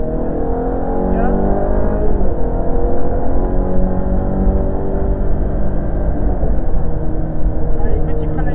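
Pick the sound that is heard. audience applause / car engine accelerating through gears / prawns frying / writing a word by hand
car engine accelerating through gears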